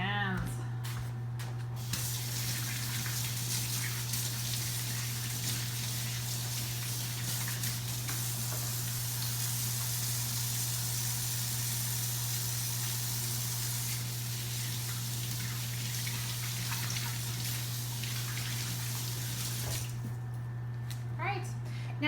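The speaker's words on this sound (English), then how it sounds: "I am going to wash my hands." Tap water runs steadily while hands are washed, a continuous close hiss over a low hum lasting about twenty seconds before cutting off; a voice talks briefly at the start and end.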